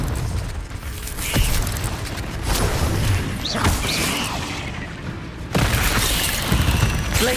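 Confringo fire spell blasts in Hogwarts Legacy, several booming impacts with crackling bursts scattered over busy game combat noise, one loud blast near the end.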